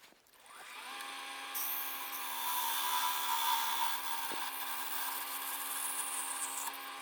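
A wooden branch is cut by hand with a saw for toothpick holders, producing a sustained, steady rasp that stays close and even for several seconds.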